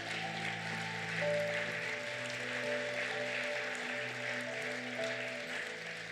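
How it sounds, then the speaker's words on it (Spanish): A church congregation applauds loudly, a broad, steady rush of clapping mixed with sustained musical tones played underneath, holding at an even level throughout. "Dale fuerte ese aplauso"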